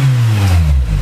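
A Mini Cooper R53 engine, fitted with a new belt tensioner and an ATI crank pulley damper, gives one quick, loud, close rev whose pitch drops as it settles back.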